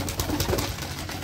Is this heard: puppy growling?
no